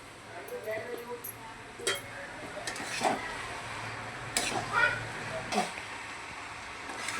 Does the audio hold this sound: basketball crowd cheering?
no